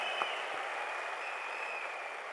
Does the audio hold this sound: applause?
yes